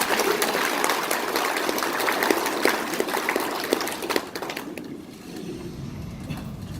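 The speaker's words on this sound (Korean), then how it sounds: "칭찬, 감사와 응원의 박수 부탁드리겠습니다" Audience applause for guest company executives at an association forum opening, a dense wash of many hands clapping that fades out after about five seconds, leaving a quieter room.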